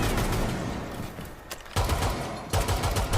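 Shotgun blasts in Rainbow Six Siege, with two loud, close booming shots about a second apart over a continuous din of combat noise.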